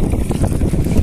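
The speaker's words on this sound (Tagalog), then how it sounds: "Sa sobrang lakas po ng hangin eh." Strong wind buffets the microphone in low, rumbling gusts, loud and close for a brief moment.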